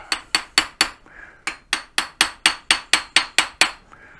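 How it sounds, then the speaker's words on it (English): A hammer-style persuader multi-tool taps the locked-up transaxle of a Pride Mobility Go-Go Elite Traveller scooter: about fifteen sharp, close metallic knocks in a steady rhythm, with one short pause early on and no talk. "get a persuader, a multi-tool, and just gently tap,"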